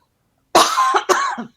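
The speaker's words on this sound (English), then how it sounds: "I'm going to have a coughing fit if we don't." Two sharp coughs close together, near and fairly loud, each breaking into a rough, raspy tail; no talking.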